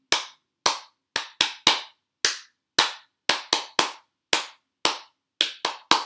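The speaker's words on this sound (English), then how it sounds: "So we're gonna have to clap for all five bunnies." Handclaps during a storytime bunny song, about a dozen crisp, separate claps in an uneven rhythm, close and loud with silence between them and no voices.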